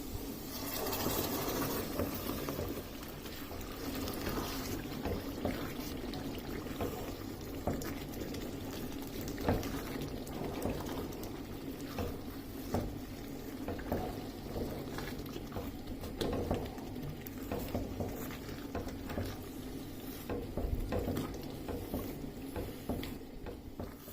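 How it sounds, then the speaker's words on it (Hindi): Mustard greens saag cooking in a ghee tadka, a continuous low sizzle and bubbling patter heard up close with no talk, steady throughout with small crackles. "सरसों के साग को तड़के में मैंने 4 से 5 मिनट तक मज़ीद कुक कर लिए"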